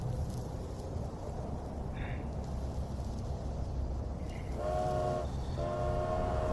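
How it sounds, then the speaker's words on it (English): A train departing a station rumbles steadily, then a horn sounds in two blasts near the end, with a few faint tones earlier. "last train here in BlackRock is about to depart"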